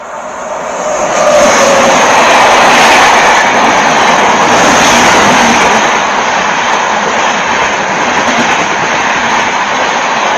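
A loud, continuous roaring rush swells up close and holds steady as a through train rushes past at speed at night, with a high whine over the roar.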